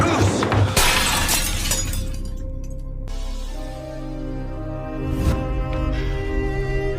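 An antique object is knocked over and shatters with a sharp crash of breaking pieces, followed by a sustained dramatic music bed and a second bright impact later.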